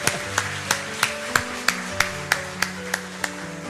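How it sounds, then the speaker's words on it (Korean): Slow, steady hand claps from a church congregation welcoming a family, about a dozen evenly spaced sharp claps over soft organ-like sustained tones in a quiet room. "그래서 우리 환영의 박수로"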